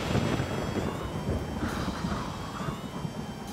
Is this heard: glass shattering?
no